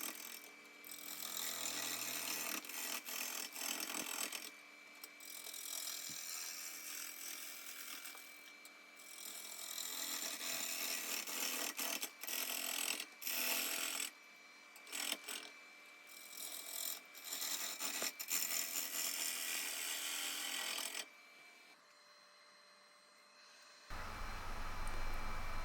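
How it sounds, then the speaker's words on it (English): A 1/2 inch bowl gouge cuts a wooden hollow form spinning on a lathe, producing a continuous close rasping, scraping whir with brief pauses and shifts in pressure, ending in near quiet and a low hum. "I use a 1/2 inch bowl gouge. I just find it's more stable and does a little bit better job."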